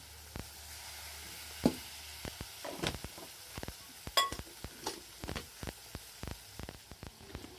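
Shingta river fish frying in oil over a wood-fired chulha, a soft steady sizzle under scattered sharp clicks and spatters, with no one speaking.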